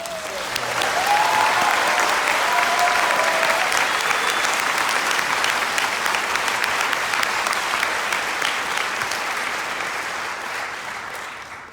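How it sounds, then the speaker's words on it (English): A theatre audience gives a round of applause for a documentary filmmaker and the film's subject at a Q&A, sustained dense clapping from many hands that holds steady and then slowly tapers off. "just a round of applause for Gwen and Susie"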